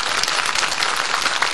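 Steady applause from an audience at a stage event, a dense wash of many hands clapping that carries evenly from start to finish with no voices heard.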